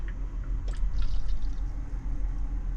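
Cleaned filtered water poured out aboard a sailboat, a steady low splashing pour with a few bright drip-like splashes, close and continuous.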